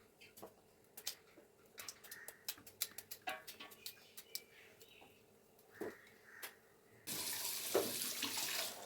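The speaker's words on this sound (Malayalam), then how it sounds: "നന്നായിട്ട് കഴുകിയെടുക്കുക ഇത് സ്റ്റാർച്ചൊക്കെ പോകുന്നത് വരെ മൂന്നാല് വെള്ളത്തിൽ നന്നായിട്ട് കഴുകിയെടുക്കണം" Chopped tapioca pieces washed by hand in water, giving soft sloshing, splashes and clicks, then a loud steady rush of running tap water near the end.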